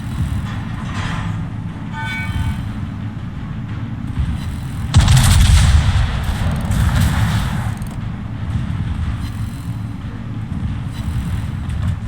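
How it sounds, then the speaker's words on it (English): Armor-piercing shell salvo from the battleship West Virginia 44 in World of Warships, a deep rumbling boom that swells into a loud roar of heavy gunfire over a constant low engine drone. "We do pick up that kill with 2 armor-piercing solid shots"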